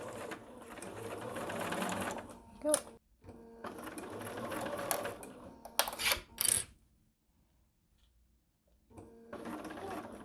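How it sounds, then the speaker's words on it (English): A sewing machine stitches a zipper onto a fabric wallet in three close, steady bursts of rapid mechanical whirring separated by short pauses, with a brief spoken word between runs. "now we're going to take this to the sewing machine and we're going to sew along this top edge"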